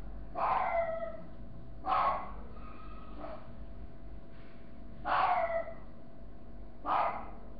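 A dog barks five times at a slow, irregular pace, each bark short and sharp, slightly distant, over a quiet background.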